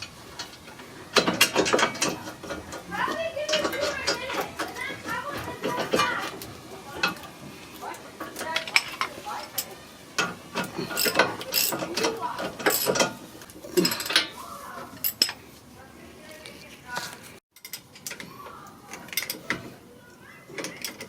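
A ratchet tightens bolts during a brake pad and rotor replacement on a 2003 Acura EL, giving repeated quick pawl clicking bursts close by, with clanks of tools and a pause near the end.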